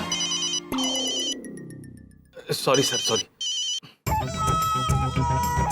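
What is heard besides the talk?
phone ringtone ringing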